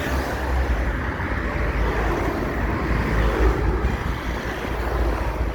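Street traffic with trams, with a police car passing by as part of a steady, loud roadway rumble that stays fairly even throughout, with no talk over it.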